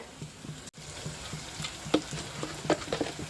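Jackfruit sizzles and crackles in hot oil for a pickle, a steady fry with rhythmic stirring scrapes and spattering pops, heard close with no talking.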